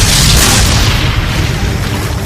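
Union cannon fire at Gettysburg rolls out as a loud, heavy boom with a long rumbling decay that fills the whole moment, close and overwhelming.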